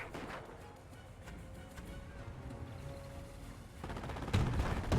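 Scattered small-arms gunfire from a Company of Heroes battle between Panzer Elite and British forces, crackling at moderate distance with a thin whistle midway and a louder burst near the end, amid dense battlefield noise.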